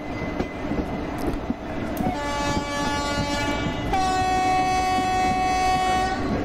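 An Indian Railways express train in the IR-MSTS simulator running after the throttle is raised, a steady rumbling roll with a sustained horn blast coming in partway and holding to the end.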